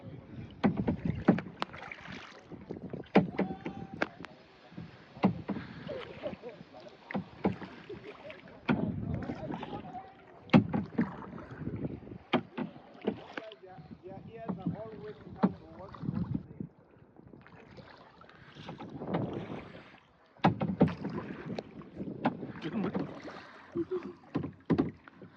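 A first-time kayaker paddles in Hatta, with repeated close splashes and drips from the blades in an uneven rhythm, under light wind noise and occasional voices.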